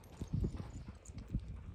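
Horse hooves clip-clop in a few uneven steps during a groundwork lesson, the footfalls moderately close but fairly soft, with quiet background noise and no talk.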